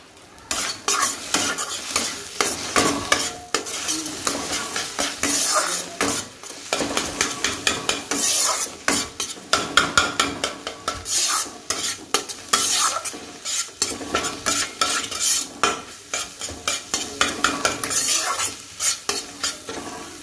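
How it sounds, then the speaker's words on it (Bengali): Scrambled egg bhujia sizzles steadily in a hot pan while a spatula scrapes and stirs it in quick repeated strokes, close and fairly loud throughout, with no talking. "দেখো ভালো করে এটা ডিমের ভুজিয়াটা করে নেব"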